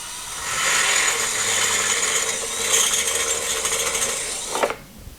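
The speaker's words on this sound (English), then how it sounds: "Well, we've got our holes drilled." A drill bit bores through metal with a steady, loud grinding whir and scraping squeal that holds for several seconds, then cuts off sharply with a brief clunk.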